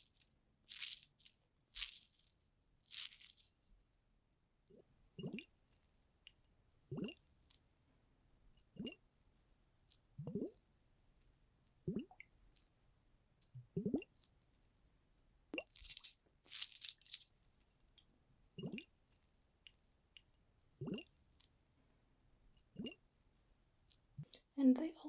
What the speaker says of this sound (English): So there are some kind of sticky, styrofoamy sounds that come with it as well.